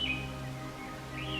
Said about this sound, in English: Birds nest in its canopy.